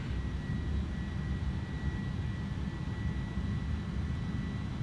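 Steady, unbroken roar of Airbus A310 jet engines in Microsoft Flight Simulator 2020, an iniBuilds model flying from Heathrow to Frankfurt, with a deep rumble and a constant whine and no talk.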